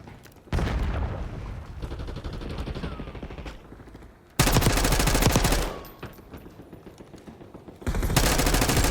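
Dense, loud automatic gunfire and bursts of shooting in a Call of Duty Black Ops 6 multiplayer match, rapid rattling volleys in several long stretches with brief lulls between.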